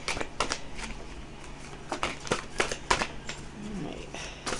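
Cards riffle and shuffle in quick bursts of papery flicks and taps, close up, with a few irregular pauses between.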